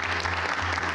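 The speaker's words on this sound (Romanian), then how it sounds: "Aplauze!" Studio audience applauding on a Romanian TV dating show, steady dense clapping that fills the whole moment with no talk over it.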